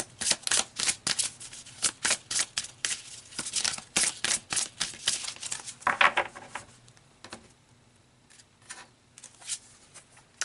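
Tarot cards are shuffled for a reading in quick, close papery riffles and flutters that thin out into a few lighter taps toward the end.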